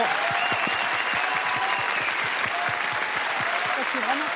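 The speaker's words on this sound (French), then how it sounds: "je pense que ça mérite une nouvelle fois une salle d'applaudissements" Sustained studio audience applause at a French television show, a dense, steady wash of clapping throughout with a few voices faintly mixed in.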